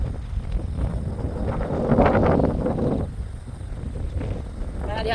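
Strong seaside wind buffeting the microphone as a low, roaring rush that swells in the middle and eases toward the end, with no clear voices over it.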